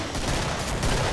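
Pistol fire rings out during co-op play in the video game Killing Floor, blending into a dense, continuous wash of loud gunfire and combat noise with no gaps.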